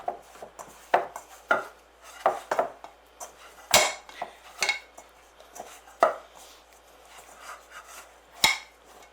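Bread dough for big pretzels being worked into a ball by hand, irregular close slaps, thumps and squishes against a surface at an uneven rhythm.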